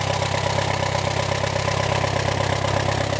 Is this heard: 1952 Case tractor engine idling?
yes